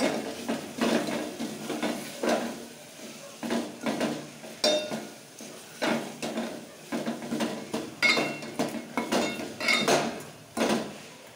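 Garam masala is stirred into tomato sambar in a metal pan: repeated close scraping and clanking of a spoon against the pan in uneven bursts over a faint sizzle.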